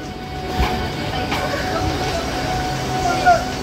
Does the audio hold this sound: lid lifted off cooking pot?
no